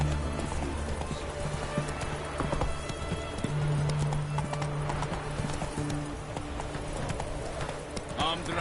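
Horse hooves clip-clopping at a steady galloping rhythm in the Witcher 3 game, continuous and prominent with an occasional whinny, while someone speaks over the hoofbeats.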